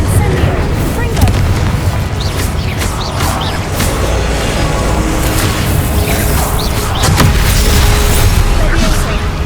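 Confringo and Incendio spell blasts in the Hogwarts Legacy game, a dense run of loud booms and bursts under a constant rumbling backdrop, with sharp cracks scattered throughout.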